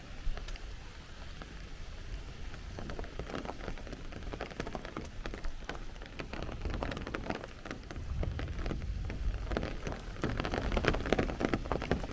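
Heavy rain pours steadily onto a Bay Ridge street in Brooklyn, with low rumbles of thunder swelling underneath and growing louder toward the end; no one talks.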